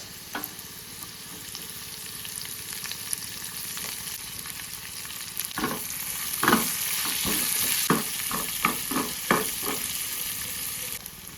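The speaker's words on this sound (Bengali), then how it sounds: "পেঁয়াজটাও হালকা লাল লাল করে ভাজা হয়ে গেছে" Onion fries in mustard oil with garlic, a steady hissing sizzle that grows busier midway as a series of rhythmic spatula scrapes stir the pan.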